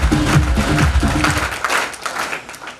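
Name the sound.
applause for an audience member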